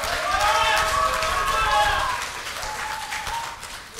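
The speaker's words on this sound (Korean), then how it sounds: "동의하시면 박수 한번 쳐주시기 바랍니다" Party members applaud at a Bareunmirae Party leadership preliminary candidates' speech event. The clapping is loud and full at first, then thins and fades over the last couple of seconds as a faint voice lingers.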